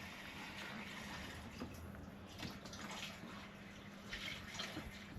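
Water runs steadily from a hose attached directly to a tap, producing a continuous, fairly faint hiss and splatter with no voices.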